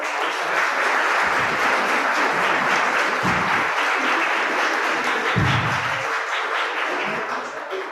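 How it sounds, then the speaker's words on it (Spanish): Audience at an afternoon talk on Social Security at a school in Naucalpan breaks into steady applause, dense clapping sustained for several seconds with a few low thumps, easing slightly toward the end. "Damos un aplauso, por favor."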